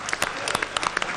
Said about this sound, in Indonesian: tepuk tangan untuk kandidat nomor 3